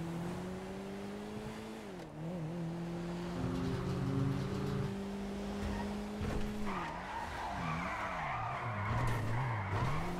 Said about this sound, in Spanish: Vamos a driftear.